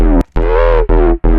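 A distorted sine-wave synth bass made in Vital, with about 16 dB of soft-clipping drive, plays a few sustained, gliding notes with gritty harmonics, loud and upfront, separated by brief gaps.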